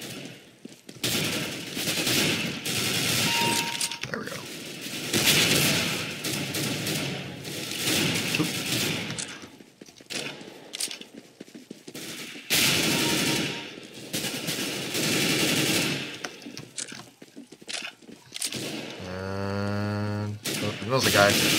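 Rapid bursts of FAMAS rifle fire in the Counter-Strike: GO game, loud and close, repeating in sustained volleys across the clip with short pauses, with a few distinct game effect tones near the end.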